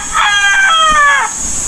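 Rooster crowing close by among chickens in a rural Philippine yard, one loud drawn-out crow lasting about a second over a steady background hiss.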